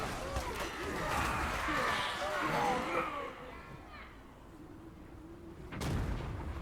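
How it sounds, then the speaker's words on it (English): Cannon blasts boom through a Total War: Three Kingdoms battle at Hu Lao Gate, with booming impacts under dense battlefield clamor and a final loud blast near the end, while a voice talks over the action. "Oh, we got some cannon blasts."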